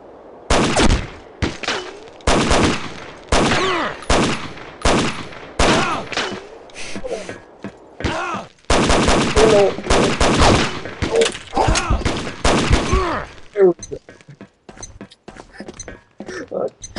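Rapid bursts of video game gunfire on an oil rig map, loud and close, come in dense volleys for about thirteen seconds and then stop. Players talk over the shooting.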